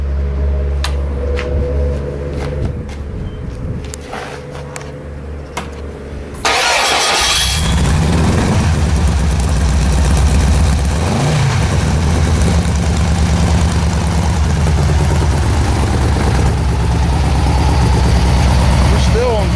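A 1972 Super Beagle aircraft engine cranks and catches, jumping into a loud, steady running roar that holds and swells as it revs, following a quieter stretch with faint voices.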